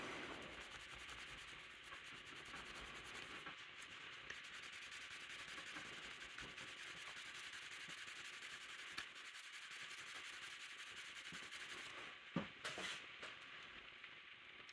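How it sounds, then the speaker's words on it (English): Cloth rubbing case paste off a Case large Stockman knife with bone handles, a faint, continuous close-up scrubbing hiss with a brief knock near the end. "I'm just going to rub it until I get rid of all the case paste."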